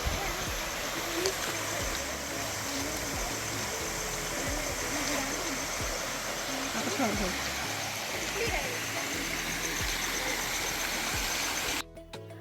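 Continuous rushing water from a waterfall and flowing stream, steady and loud, with voices faintly underneath.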